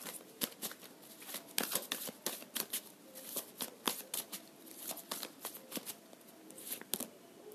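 Tarot cards shuffled by hand in a long run of crisp, rapid riffling bursts and soft slaps, fairly close and steady, with no talk over them.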